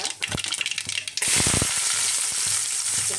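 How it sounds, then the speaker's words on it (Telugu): Mustard seeds and cumin crackle and sizzle in hot oil in a pan, a dense steady frying hiss with scattered pops, close and loud throughout. "తగినంత నూనె పోసుకొని ముందు ఆవాలు జీలకర్ర వేసుకుంటున్నానండి"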